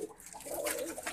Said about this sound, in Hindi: बाकी कबूतर भजन जो इसमें है वो ओपन है